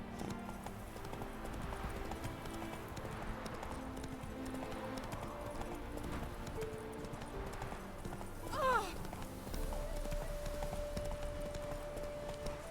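Geralt's horse Roach clip-clops at a steady trotting rhythm through The Witcher 3 countryside, the hoofbeats fairly close and continuous over background music, with a brief whinny-like swell partway through.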